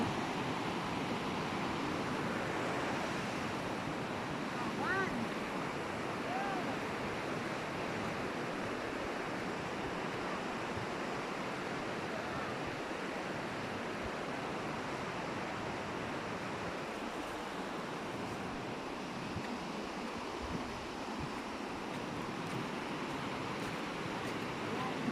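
River water at Dikapanikian river ripples and rushes in a steady, even wash of broadband noise throughout, fairly faint and distant, with no clear voices.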